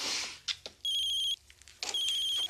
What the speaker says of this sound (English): Your phone, you should probably get it.